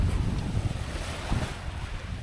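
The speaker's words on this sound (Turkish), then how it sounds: "İnanılmaz bir rüzgar var." Strong, steady wind roars and buffets the microphone at a boat campsite, with a constant low rumble and a hint of water and waves beneath it.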